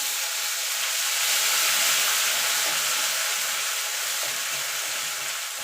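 Ginger paste hits hot oil already tempered with bay leaf, dried red chilli and whole cumin, giving a steady, loud, close sizzle and hiss that holds for several seconds with no talking.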